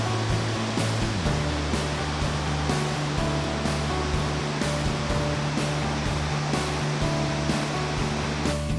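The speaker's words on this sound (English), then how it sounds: "so we can watch the falls that will eventually run into the lake below" Steady, continuous roar of a waterfall at Clear Creek Falls Overlook, heard from a viewpoint above the falls as broadband rushing water that never lets up. A low hum sits beneath it, and no one speaks.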